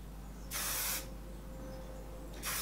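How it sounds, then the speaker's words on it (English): Kenra hairspray sprayed under curled short hair in two bursts, a longer close hiss followed by a second short spurt at the end, with no talking. "curls and I spray it underneath"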